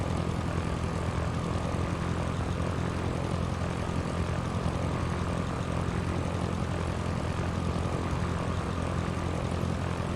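A simulated Cessna propeller plane drones steadily in flight, a constant dense engine roar that holds for the whole stretch with no talk.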